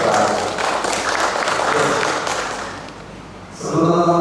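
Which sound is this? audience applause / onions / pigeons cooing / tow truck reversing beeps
audience applause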